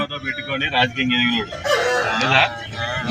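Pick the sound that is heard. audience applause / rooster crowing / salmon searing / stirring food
rooster crowing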